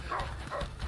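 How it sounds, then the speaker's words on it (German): Dogs barking in the A Way Out video game during a chase, a few quick barks in succession heard close over a rumbling background. "Lauf, die Hunde!"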